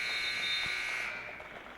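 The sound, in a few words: end-of-half buzzer at a basketball game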